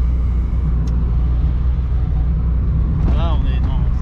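A 1.9-litre Peugeot 205 GTI drives along a country road, with a steady loud engine and road drone up close, a brief higher whine near the end.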